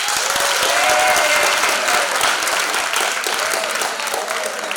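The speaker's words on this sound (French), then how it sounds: "Applaudissez." Steady audience applause at an inter-school theatre competition final, loud continuous clapping with a faint voice or two rising above it, gradually easing toward the end.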